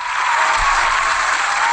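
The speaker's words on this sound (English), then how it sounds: "Just thought I would give some applause." Steady burst of applause from a crowd, evenly dense clapping from start to end at a fairly loud level, dropped into a gaming podcast chat.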